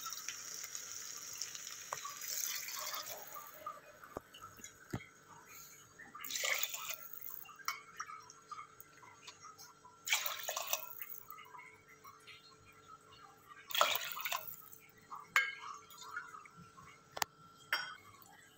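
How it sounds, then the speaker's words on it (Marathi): Water is poured into a pot holding rice and dal for khichdi, with several short splashy bursts separated by quieter gaps and faint clinks of utensils. "इथे आपण 2 वाटींसाठी 6 वाटी पाणी घातलेलं आहे"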